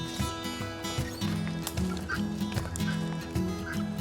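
Backyard domestic fowl call over and over, loud and close, their honking, quacking cries running almost continuously with no talking.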